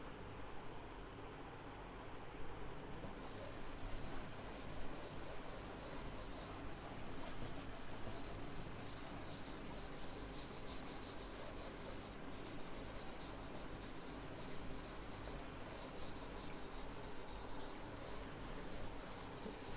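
Chalk writing is rubbed off a classroom board in continuous scrubbing strokes. The sound is moderately loud and steady, with no voices.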